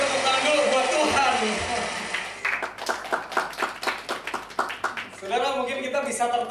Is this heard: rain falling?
no